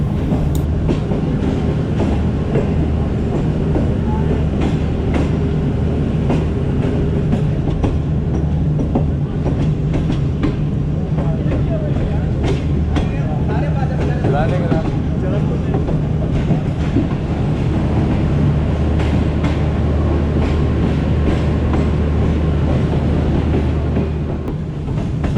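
Shalimar Express between Karachi and Multan, heard from inside the moving train: a loud continuous rumble with low drone and rhythmic rail clatter throughout, steady and unbroken for the full length.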